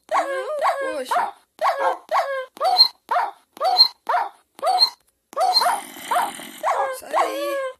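Minecraft dogs from the video game barking in a quick rhythmic series of sharp, close yips and barks, with a brief gap midway and continuing to the end.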